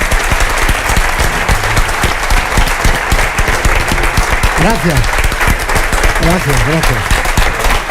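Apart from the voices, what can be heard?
audience applause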